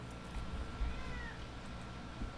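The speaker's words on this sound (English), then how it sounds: "Look at this cat." A cat gives a single soft meow over a steady indoor hum, faint and brief.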